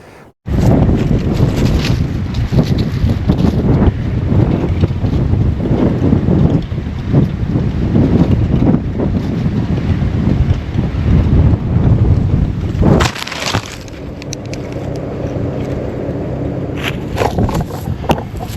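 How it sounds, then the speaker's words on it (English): Strong wind buffets the microphone continuously, a loud roaring rush with gusts, easing slightly near the end; water noise sits underneath. "Have I mentioned it's windy today?"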